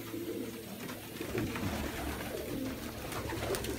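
Pigeons coo softly in a low, murmuring chorus inside a pigeon loft, steady and continuous against a busy background.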